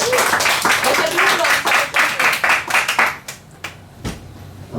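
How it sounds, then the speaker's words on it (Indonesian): Audience clapping for a performer named Evia, dense and steady at first, then thinning into scattered, separate claps toward the end. "Tepuk tangan dong buat Evia."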